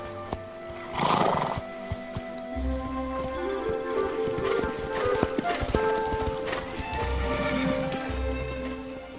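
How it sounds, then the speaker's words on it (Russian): Horse and rider moving off at the Spanish Riding School in Vienna, steady clip-clopping hooves over a continuous background with occasional whinnies, close and fairly loud with no talk. "Лошадь с наездником трогаются с места."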